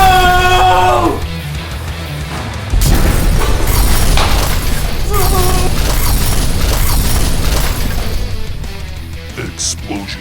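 A heavy explosion in a film bursts in with a loud, sustained roar after a brief stretch of voices, then rumbles on, thick with crashing debris and shouting.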